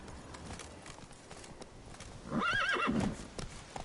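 Roach, the horse in The Witcher 3: Wild Hunt, thuds along in quick hoofbeats, then lets out a loud, wavering whinny that fades into a snort, with no talk.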